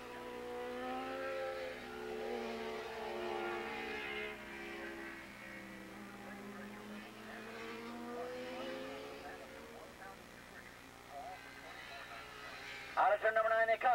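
Yamaha 750 modified production motorcycles race down the front straightaway at Willow Springs Raceway, a sustained engine drone rising and falling over the whole stretch with a trackside announcer talking over it.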